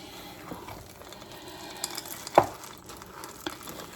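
Chocolate chips and nuts being mixed into gluten-free chocolate chip cookie dough, soft scraping and stirring with scattered clicks and one sharper knock partway through.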